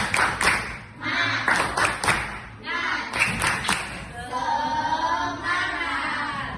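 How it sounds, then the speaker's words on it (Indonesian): A fourth-grade class of schoolchildren claps together in quick rhythmic bursts, the sharp claps grouped in patterns between shouted chanting voices in a classroom. "kita tepuk dulu ya kelas 4. Tepuk lagi. Tepuk semangat."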